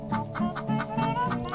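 Chickens and a rooster cluck in quick, soft bursts as they are fed by hand, heard up close at low volume.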